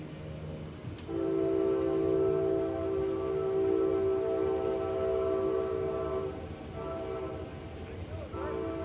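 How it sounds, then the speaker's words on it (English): A train passes close by with a loud, sustained horn blast that holds for several seconds over a rumbling rail clatter, then fades as the cars roll on; faint voices sit underneath. "it's hard to hear over the train"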